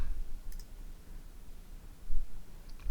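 A computer mouse gives a couple of faint, sharp clicks, spaced apart over a quiet, low background hum. No voice is heard.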